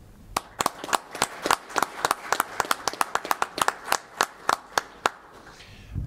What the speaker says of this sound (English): let's give CSU Pueblo and RMAC football a round of applause for an excellent year